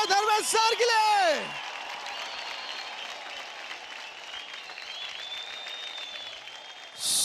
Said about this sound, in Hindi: जोरदार तालियां हो जाओ धर्मेश सर के लिए।